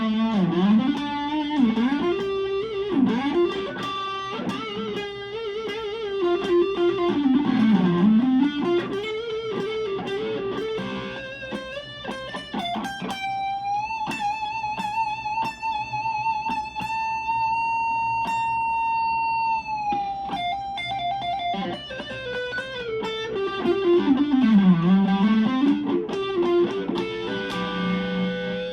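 A distorted Epiphone Les Paul Standard electric guitar through an amp plays loud sustained, bending lead notes with a long held tone in the middle, crunchy and saturated, with no voices.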